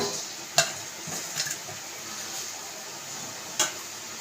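A spoon stirs fish curry in a pot, dropping in coriander leaves, with a soft simmering hiss and a couple of sharp clinks of utensil on metal.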